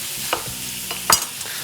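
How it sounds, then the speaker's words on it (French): Chanterelle mushrooms roast in browned butter in a pan, giving a soft steady sizzle marked by a few brief stirring scrapes and one sharper clatter near the end, with no talking. "Et on va faire rôtir les champignons."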